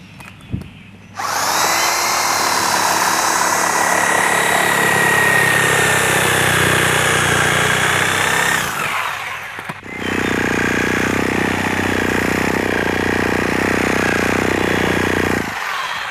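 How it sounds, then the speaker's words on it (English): A reciprocating saw rips through a roof to cut a vent hole, loud and close with a harsh buzzing whine for about eight seconds, then a short pause and a second, lower-pitched burst of cutting. "I'll use this reciprocating saw"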